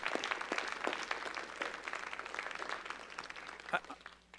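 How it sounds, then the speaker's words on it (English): Applause from an audience at a city hall public arts discussion, steady dense clapping throughout that fades toward the end, with a few louder claps near the close. "let's give the artists a round of applause"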